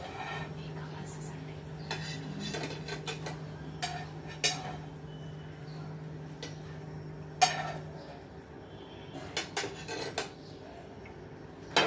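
Egg bread being moved from a pan onto a plate gives quiet, close scrapes and a few sharp clinks of a utensil against cookware, spaced irregularly over a low, steady hum.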